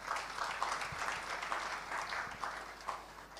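Conference attendees at a regional meeting on health financing applaud together, a moderately loud, textured clatter of many hands that rises and falls slightly throughout.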